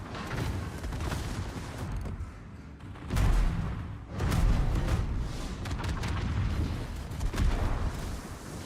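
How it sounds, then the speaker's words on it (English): A torpedo strikes a warship in World of Warships, a heavy booming explosion followed by rumbling blasts and continuous battle noise, loud and close. "And a torpedo."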